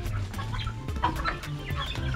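Native, Rhode Island Red and Basilan chickens in a shared coop, clucking and calling in a busy, overlapping flock chorus with a steady background hum.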